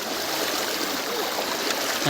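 Water rushes steadily nearby, a continuous broad hiss of a clear, arm-deep river flowing with no breaks, heard during a fishing outing.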